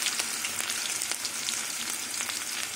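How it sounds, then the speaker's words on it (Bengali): Chopped onion sizzles in hot oil in a pan over whole dried red chillies and cumin seeds, a steady close crackle and hiss with small pops, with no voices over it. "পেঁয়াজটা লাল করে ভেজে নেব।"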